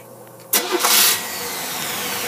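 An engine cranks and catches abruptly, surging briefly before settling into a steady, loud idle that runs on alone.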